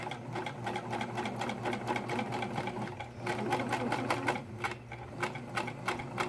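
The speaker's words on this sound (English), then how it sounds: "I sewed this kind of slowly because I am doing a curve and I want to be pretty accurate" A sewing machine runs slowly and steadily as it stitches a curved seam, giving a close, continuous mechanical whir with a rapid, even needle rhythm.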